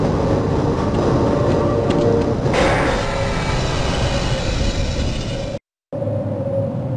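A steady, loud rumble of a tram car rolling along its track in Half-Life, continuous mechanical drone with a brief shift partway and a short silent cut near the end.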